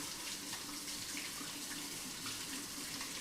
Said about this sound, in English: As you can hear, I am washing my hands.